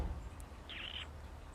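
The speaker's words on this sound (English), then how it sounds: "Bird." A single short bird call, a thin chirp lasting about a third of a second, sounds faint and at some distance over a low outdoor rumble.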